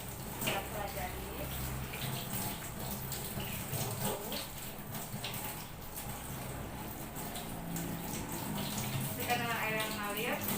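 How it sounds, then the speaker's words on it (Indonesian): Hands are washed under a running tap, with a steady wash of flowing water that stays even from start to end. "dan cuci tangan di air yang mengalir"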